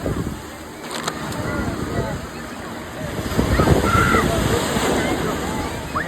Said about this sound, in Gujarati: અને આ છે મોજા.